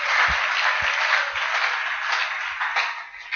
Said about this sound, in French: Applaudissons fort le Seigneur.